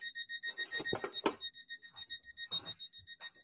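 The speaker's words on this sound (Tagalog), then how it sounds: "Hindi ko alam na may alarm pala dito." An alarm clock rings indoors in a repeating electronic beeping pattern, steady pulses throughout, while a person talks and laughs over it.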